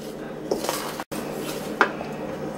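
Coconut is mixed into Jamaican toto cake batter in a bowl, with a spoon scraping and two brief clinks against the bowl over a steady soft background, no talking.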